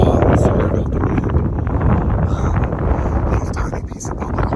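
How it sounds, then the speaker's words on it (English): Strong gusts of wind buffet the microphone outdoors on farmland during a Nebraska archery deer hunt. The rumble is loud and continuous across the whole stretch, with a voice partly heard beneath it. "Sorry about the wind."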